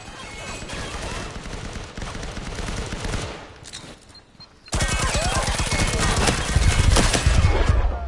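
Rapid automatic gunfire in the Firewall Zero Hour video game, dense sustained bursts of close shots that pause briefly and then resume louder and heavier.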